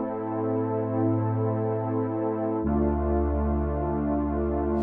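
Two sustained chords sound from a Future Wave synth brass preset played dry with no effects, rich and steady, the second chord lower and fuller, with no voices.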